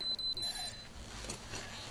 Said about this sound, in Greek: Ξυπνητήρι.